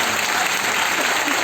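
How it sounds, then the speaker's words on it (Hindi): A church congregation claps together to thank God, a dense, sustained wash of applause with faint voices mixed in. "ताली बजा के परमेश्वर धन्यवाद करेंगे"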